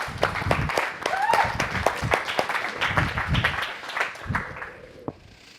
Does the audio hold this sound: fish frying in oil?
no